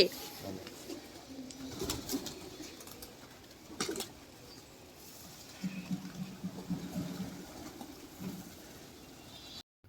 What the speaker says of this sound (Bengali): ঘুম থেকে উঠেই দেখি আজকে ছাদে কত পায়রা